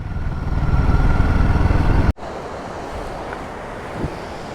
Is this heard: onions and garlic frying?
no